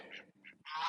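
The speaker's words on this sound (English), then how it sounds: "the guard goose" A guard goose honks on a farm among ducks and geese, three loud nasal calls in quick succession, the last one longest and strongest, with no talking.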